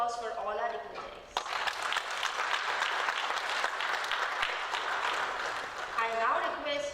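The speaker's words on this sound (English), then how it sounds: "Let us all extend a warm round of applause for all our dignitaries" An audience at the IEEE PUNECON 2024 inaugural conference session claps steadily for the dignitaries. A voice speaks over the sparse opening, then dense applause rises sharply and holds for several seconds before tapering as speech returns.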